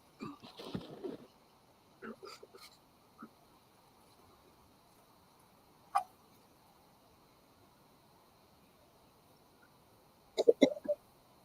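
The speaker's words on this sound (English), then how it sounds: "I got hiccups." Someone has hiccups, heard as a few short, sharp, isolated bursts spread across a mostly quiet stretch, with a quick cluster near the end and faint breathy sounds, close to the microphone and without other talk.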